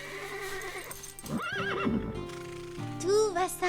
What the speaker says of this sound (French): quand un cheval se met à hennir, c'est juste pour se faire respecter